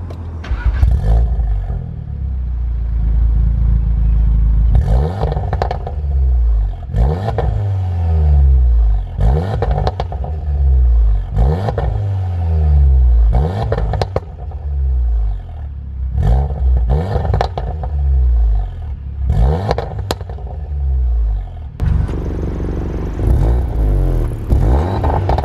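Tuned 2018 VW Golf R 7.5 in race mode with an open exhaust, revving repeatedly in loud, close bursts that rise and fall in steady rhythm, with pops and crackles between revs and a deep rumble throughout.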